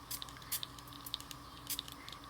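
A misting spray bottle spritzes a fine spray over a craft surface in several quick, soft hissing bursts spaced unevenly apart, faint and close with no talk.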